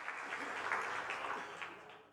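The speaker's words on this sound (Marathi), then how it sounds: "एकदा जोरदार टाळ्या." Audience applause at a Marathi stand-up comedy show, a steady wash of clapping from a crowd that swells slightly and then fades toward the end, with no talking over it.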